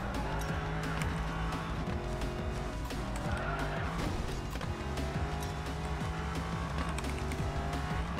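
In a racing video game, a tuned Mercedes SL63 speeds downhill on a Shanghai track, its engine droning steadily and loudly while tires squeal and skid through drifts, the sound dense and continuous throughout.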